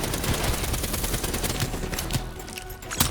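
Rapid automatic gunfire from Call of Duty: Black Ops 3, sustained bursts filling the whole stretch at steady loudness, with a few sharper reports standing out near the end and no talk.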